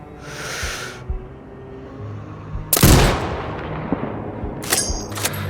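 A single loud sniper rifle shot cracks out in Sniper Ghost Warrior Contracts 2, a sharp blast with a long rumbling tail, followed by a few fainter sharp clicks and metallic bolt-action noises.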